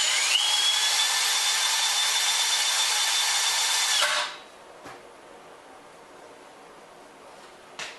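A drill-powered ice auger with a roughly 6-inch cut whines loudly and steadily for about four seconds, then winds down and stops, leaving quiet background with a faint click.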